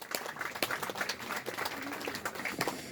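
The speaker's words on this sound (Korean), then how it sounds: "박수 한번 보내주시기 바랍니다" Audience applause at a commemorative ceremony for Syngman Rhee's birth anniversary, a fairly quiet spread of scattered clapping from a crowd, continuous and somewhat distant.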